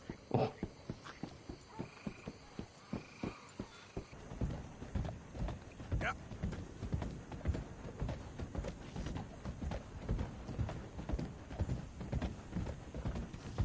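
Horse hooves clip-clopping in Red Dead Redemption 2 near Saint Denis, a steady rhythmic trot of crisp hoofbeats, spaced at first and then quicker and denser over a continuous ambient bed.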